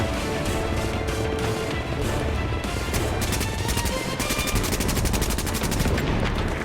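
Gunfire between rival factions in Tom Clancy's The Division rattles on without a break: dense overlapping rifle and machine-gun bursts, loud and continuous, with rapid automatic fire sharpening toward the end.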